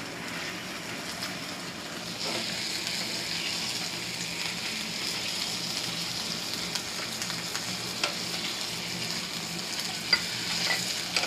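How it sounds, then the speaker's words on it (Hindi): Garlic ginger paste frying in a pan with steady close sizzling and occasional stirring scrapes, alone with no voices, as part of making chana chaat. "1 टीस्पून लहसुन अदरक ले लीजिए और इसको अच्छी तरह फ्राई करें।"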